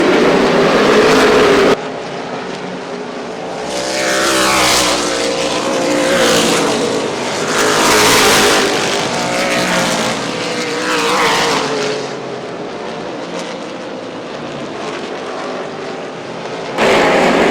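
Limited late model race cars roaring around a dirt oval: loud, sustained engine drone with repeated swelling passes as the cars sweep by, continuous and close, with no talking.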